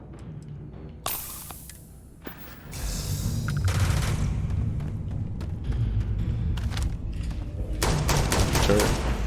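Turret gunfire in the video game Starfield, sharp bursts of shots opening into a dense sustained fusillade, loud and close, with a brief lull before firing resumes.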